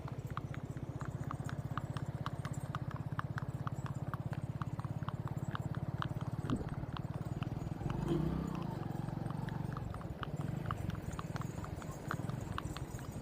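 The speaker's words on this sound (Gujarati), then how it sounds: "બે ઘોડા ભેગા ભેગા છે." Two horses walking side by side, hooves clip-clopping in a steady, even rhythm close by, with faint voices in the background.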